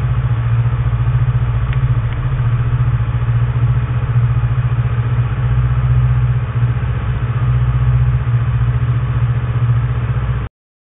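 A motorcycle engine idles steadily up close before the ride home, a loud, even low rumble with faint clatter and no speech.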